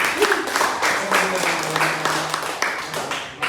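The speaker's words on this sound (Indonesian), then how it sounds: "Boleh tepuk tangan dulu buat semuanya" A room full of people clapping together in a vocational training class, steady applause with some voices mixed underneath, fairly loud and close.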